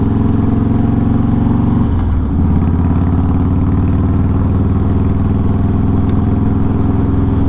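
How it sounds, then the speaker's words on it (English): A Harley-Davidson Softail Deluxe motorcycle engine idles loud and close, a steady low, lumpy throb with a brief dip and change in pitch around two seconds before settling back into its rhythmic rumble. "boy, this bike sounds awesome, doesn't it?"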